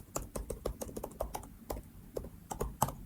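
Someone typing on a computer keyboard while coding a new index.html file, producing close, crisp irregular keystrokes in quick bursts with short pauses between.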